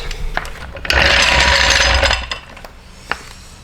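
A wrench or impact tool tightens the wheel bolts on a lowered Mk8 GTI, a loud steady mechanical burst lasting about a second with a few sharp metallic clicks before and after, no talking.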